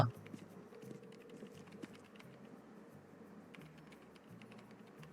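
A keyboard types a message in the Roblox game The Last Stop, set on a train: soft, rapid key clicks ticking steadily throughout at low volume, with faint background murmur.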